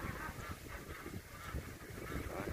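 A flock of laying ducks being moved by boat across fields in the Mekong Delta region quacks and honks continuously, a dense, busy chorus close by with no speech.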